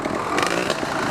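Trail motorcycle engine revving on a trail ride, a loud, steady, close buzzing drone held for a second with slight rises in pitch.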